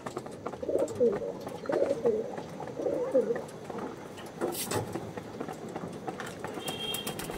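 Pulsar breed pigeons of the Chhapka line give a series of close, repeated rolling coos in the first few seconds, then quieter shuffling and scattered clicks follow without any speech.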